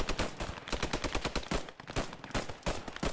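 Rapid bursts of machine gun fire in the WWII shooter Post Scriptum, loud and dense, with sharp repeated cracks filling the whole stretch and a brief lull midway.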